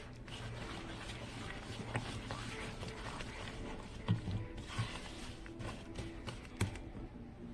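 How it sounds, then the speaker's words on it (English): Butter pecan cookie dough with brown sugar is stirred and mashed in a bowl, giving irregular close clicks, scrapes and knocks of the utensil at a moderate level. "Stir that up until it is smooth."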